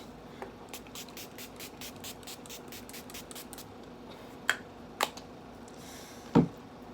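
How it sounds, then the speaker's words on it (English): A Milani Make It Last setting spray pump mist bursts in a quick run of about a dozen short puffs, followed by a few sharper clicks and taps, all faint and close with no talk. "I'm gonna spray with the Milani Make It Last."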